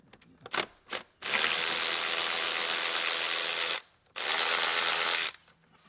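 A ratchet spins out 8mm bolts on a 6.7 Cummins diesel engine, with a few short clicks followed by two long, loud, continuous bursts of rapid ratcheting close up.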